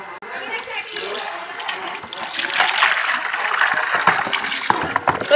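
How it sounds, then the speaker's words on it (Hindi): Mustard greens and bathua are rinsed in water for Punjabi sarson ka saag, with soft splashing and trickling that grows louder toward the end while someone talks over it. "तो इसे हम पानी से अच्छी तरह से धो लेते हैं।"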